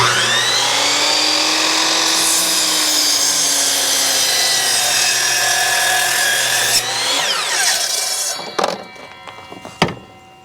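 A steady, continuous sawing whine cutting through firewood on a miter board for several seconds, then it stops and a few loose knocks and clatters follow.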